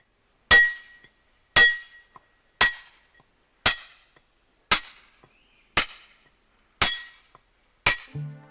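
Eight sharp metallic strikes of a chisel on rock, evenly spaced about a second apart, ring out loud and close, each with a short bright ring, during carving of the Vivekananda Rock Memorial in 1964.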